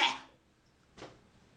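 A person imitates a cough while talking about coughing riders on the Paris metro. Two short, close coughs are separated by a brief pause, and the first is louder than the second.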